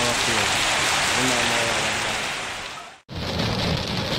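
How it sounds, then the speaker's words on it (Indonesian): Hail and heavy rain pounding down on Margonda street in front of Depok's new bus terminal, with small ice stones falling; a loud, dense, continuous roar that briefly drops out near the end. "Hujan es di bawah di Depok, ya Allah."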